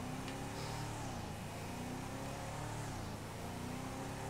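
A car engine in GTA 5 revs continuously, a faint, steady droning roar with slight pitch wavers and no break, heard alone without talk.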